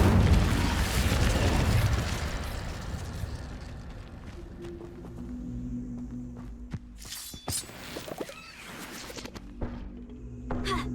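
A fiery burst from the Incendio spell in Hogwarts Legacy, a loud whooshing blast in the opening two seconds that fades into quieter game ambience with scattered small pops and footsteps.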